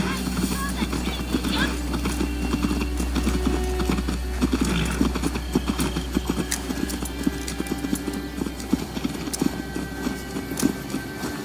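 Horse hooves clip-clopping in the video game Assassin's Creed Valhalla, a steady rhythmic gait with a brief whinny, under a continuous low rumble and a voice talking.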